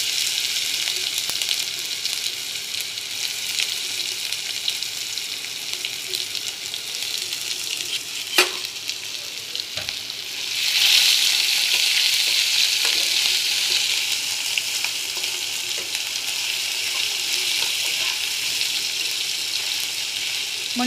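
Ginger garlic paste fries in hot oil in a pan for a Maharashtrian vegetable dish, a loud, continuous close-up sizzle broken by a couple of stirring knocks and flaring brighter partway through.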